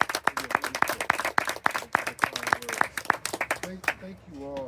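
A round of applause at a Franklin Housing Authority appreciation event on Summer Street, sharp claps in a quick steady rhythm from a small crowd, fading as a voice begins to talk at the end.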